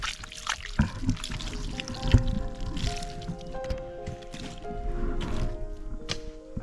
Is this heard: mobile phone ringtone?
no